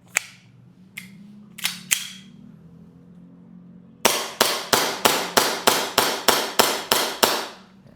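An airsoft pistol is test-fired: four sharp, spaced snaps come first, then a quick even burst of about eleven loud cracks in a row, close by and with no voices.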